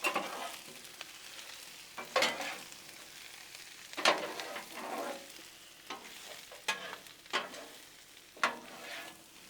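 Tomatoes and spinach sizzle on a Blackstone griddle under a soft, continuous crackle, broken by repeated scraping and stirring strokes of a spatula spaced a second or two apart.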